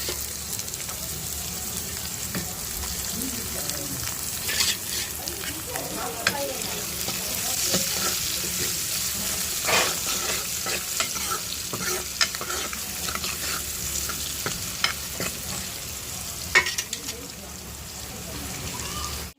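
Vegetables frying in a pan for an egg pasta curry give a continuous close sizzle, with repeated stirring scrapes and clatters throughout and a louder knock near the end.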